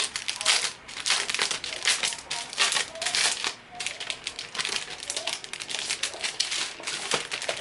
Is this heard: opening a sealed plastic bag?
yes